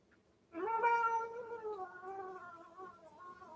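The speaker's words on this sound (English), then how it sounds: "meowing like a cat over here" A cat meows once, a drawn-out, wavering caterwaul that rises then slowly trails off, fairly close and clear against a quiet room.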